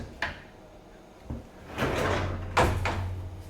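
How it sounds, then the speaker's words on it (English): A drawer slides open on a Bosch tumble dryer stacker, giving a short rolling rumble between a few knocks and clunks, close and moderately loud. "Drawer opens perfectly."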